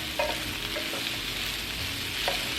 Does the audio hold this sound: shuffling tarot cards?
no